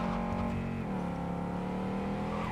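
A car engine in the video game Cyberpunk 2077, a pink-and-white car, hums steadily with a dense, even drone that shifts pitch about a second in as it picks up speed. No one speaks.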